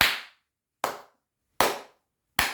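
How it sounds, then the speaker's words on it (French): Four sharp, single hand claps spaced roughly evenly apart, each a crisp percussive snap with a short decay into silence, close and fairly loud with no talking. "On applaudit la cause!"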